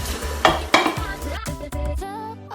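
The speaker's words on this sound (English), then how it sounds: "Keep stirring it." A spoon stirs ogbono soup in a pot after water has been added, with scraping and clinking strokes against the pot over a soft sizzle, close and busy.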